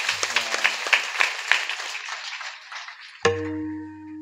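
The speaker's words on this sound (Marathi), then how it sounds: "माय एकदा जोरात टाळ्या वाजवा ग।" Applause from a devotional kirtan audience during a village week-long religious gathering, a burst of clapping that fades over about three seconds before a sharp electronic tone rings out.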